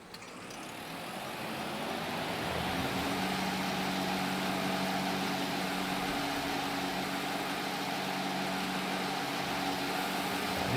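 The engine of a small old tractor runs steadily, a low, even rumble that builds over the first two seconds and then holds at a constant level nearby, with no voices.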